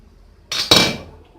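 A metal spoon clinks against a pot while vermicelli soup is stirred, with a quick scrape then a sharper clatter that rings out and fades, close and alone in a quiet kitchen.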